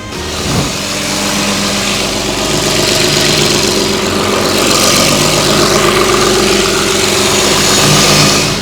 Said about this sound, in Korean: 시동 걸어놨으니까 엔진 소리까지 한번 들려드리도록 하겠습니다